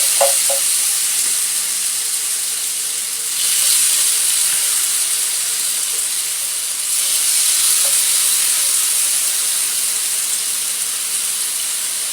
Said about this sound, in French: Je fais frire le saumon comme si c'était le poisson. Vraiment à feu doux.